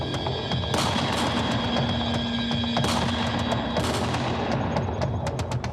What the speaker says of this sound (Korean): 그리고 갑자기 총소리가 들려